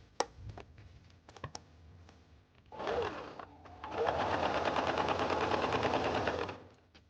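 A sewing machine stitches a stretchy narrow zigzag seam on knit fabric while replacing a jacket cuff; a few light clicks come first, then a short burst of close mechanical whirring, and after a brief pause a steady, loud run of about three seconds.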